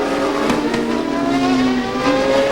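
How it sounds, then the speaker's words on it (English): CART race cars at Vancouver braking and downshifting at the end of the back straight after running near 190 mph, a loud, continuous engine roar with falling and rising pitch sweeps as gears change. "Dixon's setting up now for braking and downshifting"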